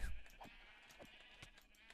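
Sheep in the video game Minecraft bleat several times in short, wavering calls, a few overlapping one another over a faint background.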